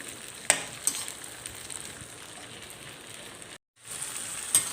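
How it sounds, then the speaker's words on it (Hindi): Karonda and green chili pickle fries over high heat, giving a soft, steady sizzle close by with a few sharp pops and a brief dropout near the end. "अब हम इसको तेज़ आंच में ही थोड़ा सा भून देंगे।"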